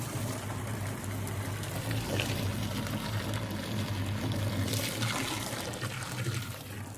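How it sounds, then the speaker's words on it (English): Water steadily pouring and trickling into a sailboat's cockpit with its drain plugged, a continuous close splashing rush with a low pump-like hum beneath, no talking. "I'm just filling up the cockpit with water as well."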